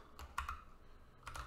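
Keys clicking on a computer keyboard in a few brief, quiet bursts, with soft pauses between them and no voices.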